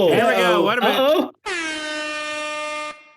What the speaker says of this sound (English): I need the upset air horns